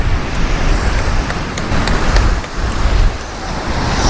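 Surf rolls and washes continuously at Bimli Beach, a black-sand beach in India, with a loud, close roar of waves. Wind buffets the microphone throughout.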